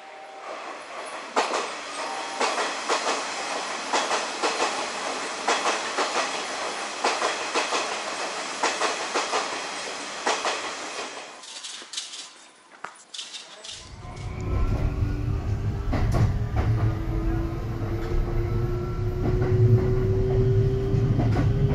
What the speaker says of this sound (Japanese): じゃあ電車に乗って次に向かいますか。